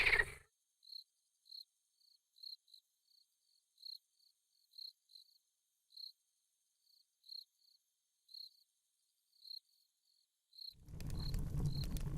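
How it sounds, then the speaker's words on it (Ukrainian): Frogs calling at night beside a lake on a carp-fishing trip: short, high, evenly spaced chirps repeat alone against near-silence, then a louder rustling noise cuts in at the end. "від того, як жаби навіть співають"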